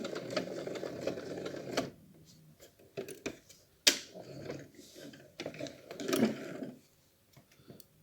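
Sewing machine backstitching fabric for square and heart-shaped reusable wipes, a short burst of rapid close stitching followed by scattered clicks and handling noises, then near silence.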